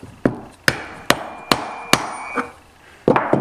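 A seal is tapped into a Minarelli engine crankcase with a drift, giving seven sharp, close metallic hammer knocks at uneven intervals, each with a short ringing decay and no voices.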